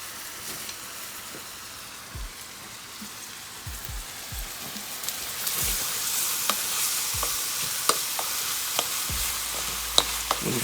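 Ingredients seasoned with fish sauce sizzle and fry in a pan for Filipino coconut chicken, a continuous close hiss building louder, punctuated by intermittent scraping and tapping of a utensil as it is stirred.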